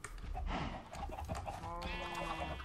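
A Minecraft sheep bleats in a wavering, nasal call that rises over a busy, steady game backdrop, with a clear tonal bleat near the end.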